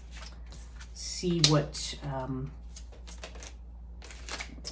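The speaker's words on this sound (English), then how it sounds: "now let's let's start flipping cards" Tarot cards are flipped and shuffled in quick papery flicks and slaps, close up, while a person talks over them.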